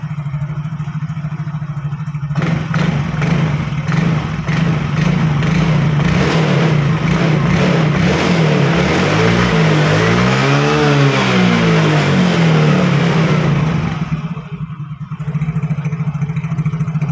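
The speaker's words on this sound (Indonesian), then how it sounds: "Coba didengarkan saya sentak gasnya." A Yamaha Fino automatic scooter engine idles steadily, then is revved by repeated throttle blips, climbing to a loud rising-and-falling rev around the middle before dropping back to idle; close and loud with no talk.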